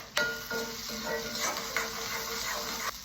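Green turkey berries fry in hot oil in a pan with a steady, faint sizzle and spluttering crackle, and occasional clinks of a utensil against the pan.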